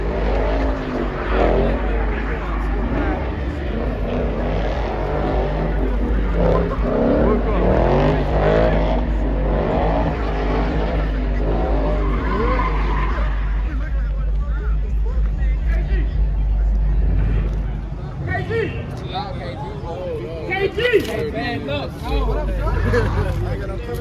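An unmarked police Dodge Charger Scat Pack slides at a street car meet, its engine roaring loud and steady with tire noise over a babbling crowd; voices chatter throughout and the engine drops away near the end.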